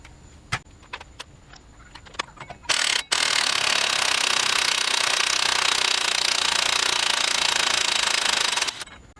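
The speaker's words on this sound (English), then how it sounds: "we're going to use our impact, pop this nut off" A pneumatic impact wrench removes a 36mm hub nut on a 2008-2012 GMC Sierra 1500, starting with a few sharp clanks and then hammering loudly and continuously for about six seconds before stopping.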